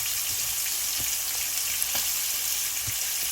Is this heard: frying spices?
yes